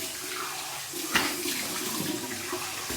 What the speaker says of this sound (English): That's my warm water rinse